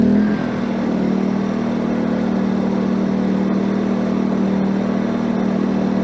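A WEN 56225i portable generator's engine runs up to speed after its switch is flipped, settling into a loud, steady mechanical drone near 4,700 RPM that stays constant throughout.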